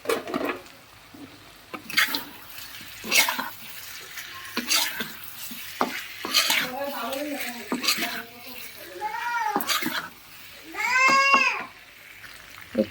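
Moong dal fried with potatoes and cauliflower in a pan: intermittent scraping stirs over a low sizzle, broken by several high, wavering meow-like cries toward the end.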